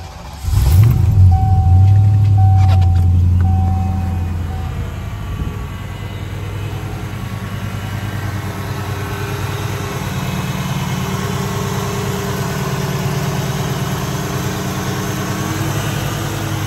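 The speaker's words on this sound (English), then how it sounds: "let's hit the road and see how she drives" A 1986 Ford Mustang engine rumbles steadily while the car drives on the road, a loud continuous low drone after a brief rev at the start, with no talking.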